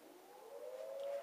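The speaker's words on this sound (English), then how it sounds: "so siren's ringing." A civil defense siren sounds at six o'clock, a faint distant steady wail slowly rising in pitch, heard alone.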